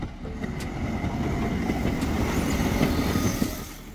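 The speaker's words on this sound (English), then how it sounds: "Passenger train, a train dedicated to transporting passengers between destinations." A passenger train running along railway tracks, a steady broadband rumble with faint wheel clatter throughout, fairly close and continuous for a few seconds.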